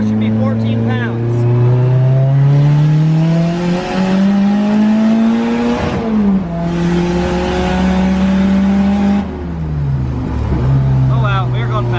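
A Nissan 240 drift car pulls hard in fourth gear, its engine a loud, buzzy roar whose pitch climbs steadily, dips sharply twice, then rises again, heard close from on board.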